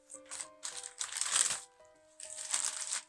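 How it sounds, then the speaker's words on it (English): Crinkly plastic and paper rustling in two bursts as scissors snip open a mailed package, close up with a short pause between. "See if these scissors are cutty enough."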